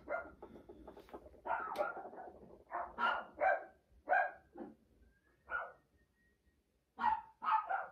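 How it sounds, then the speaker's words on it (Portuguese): Several dogs bark in short separated bursts at middle distance, with gaps of quiet between volleys and a faint steady tone in the background. "Trilha sonora, cachorros."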